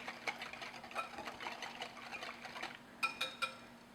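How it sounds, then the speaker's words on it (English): Faint, steady whisking of melted butter into wet cake batter ingredients in a bowl for a chocolate pudding cake, soft rhythmic scraping with a few sharper taps near the end. "So, whisk all that together."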